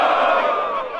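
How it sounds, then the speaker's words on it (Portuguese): Audience at a Brazilian rap battle roaring and cheering loudly as one dense crowd, a sustained wall of voices that fades slightly toward the end. "E aquelas palmas pro terceiro round?"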